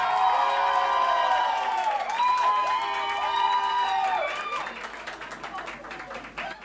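A studio audience at a televised talent show claps and cheers in a loud, sustained wave that thins toward the end, mixed with bright music tones and voices.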